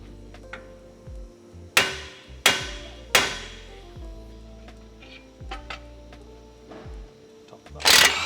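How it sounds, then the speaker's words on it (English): Hammer blows break the tie rod taper on an Iveco 4x4: three loud, sharp metallic strikes in quick succession, then lighter taps and clanks, and a final clatter, in a workshop with no talking. "we'll undo the tie rod nut and then break the tie rod taper"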